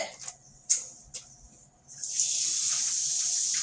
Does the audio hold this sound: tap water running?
yes